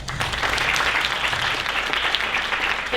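An audience at a Bharatanatyam arangetram gives a round of applause, a continuous, dense crowd of clapping hands that holds steady and fairly loud with a low hum beneath.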